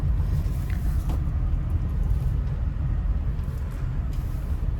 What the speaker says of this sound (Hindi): तभी गाड़ी व्हील स्पिन में जा रही है।